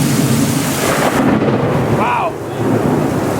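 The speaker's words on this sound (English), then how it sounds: "I'm just getting blitzkrieged, literally, by this super storm going on right now" A heavy thunderstorm in New Orleans, set between jazz club districts, with loud steady rain roaring and thunder rumbling throughout; a person briefly exclaims partway through.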